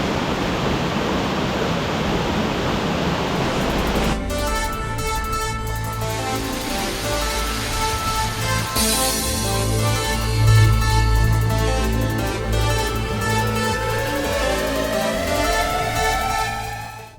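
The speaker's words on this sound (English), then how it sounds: "It's a very pretty little cascade" A small cascade tumbling down a shaded creek in the Blue Mountains gives a steady, close rush of falling water for about four seconds, then music takes over for the rest.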